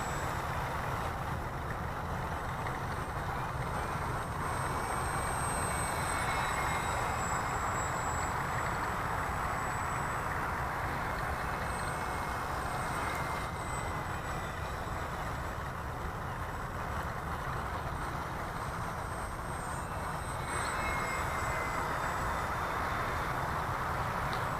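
A SuperEZ V2 RC model airplane flies low figure eights, giving a continuous motor drone with a thin high whine that swells and fades as it passes. There is no talking.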